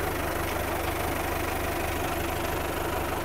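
A New Holland 850 tractor engine runs at a steady idle, a loud, continuous low rumble with an even knocking throb and no talk over it.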